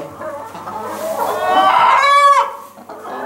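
A chicken close by in a coop gives a drawn-out, rising squawk with cluck-like notes, loud and alone in a quiet setting.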